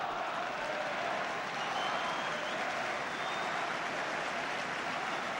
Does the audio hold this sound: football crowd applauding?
yes